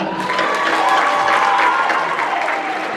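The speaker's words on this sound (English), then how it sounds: "A big round of applause for that." A live audience at a school performance breaks into loud, steady applause with some cheering, a close, continuous clatter of many hands throughout.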